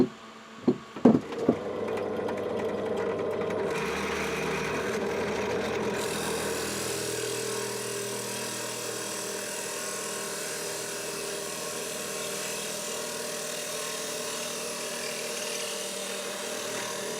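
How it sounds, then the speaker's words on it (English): A 44mm hole saw cuts through scrap wood, a few sharp knocks at the start giving way to a steady, loud, continuous grinding whine that holds to the end with no speech. "I've got a 44mm hole cutting saw in, so I'm going to cut 2 out."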